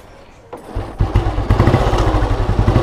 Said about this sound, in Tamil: அவங்களோட ஓல்டு மாடல் புல்லட் வண்டி ஸ்டார்ட் பண்ண போகிறாங்க